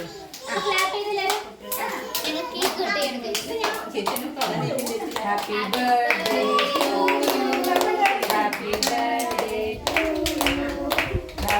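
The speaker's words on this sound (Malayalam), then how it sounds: "എല്ലാവരും ക്ലാപ്പ് ചെയ്യൂ" Many hands clap in a quick, steady rhythm, close and lively, while children's voices sing and chatter throughout.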